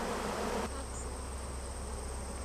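Honey bees buzzing in a steady, dense drone, close and continuous with no voices.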